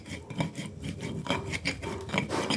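Garlic and shallots ground with a pestle in a stone mortar to make a sayur asem spice paste, giving steady, close rasping scrapes and rubs in an uneven rhythm with no talk.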